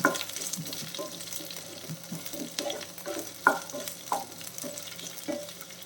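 Ladies finger okra stir-fries in a pan over a medium-low flame, giving a soft, even sizzle broken by occasional spatula taps and scrapes, fairly quiet and without speech.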